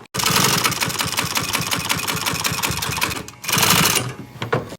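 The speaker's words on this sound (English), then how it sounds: "We can finish it off by sewing this piece back all the way around." A sewing machine runs in a loud, rapid mechanical chatter while stitching pontoon boat seat upholstery, pausing briefly before a second short burst of stitching.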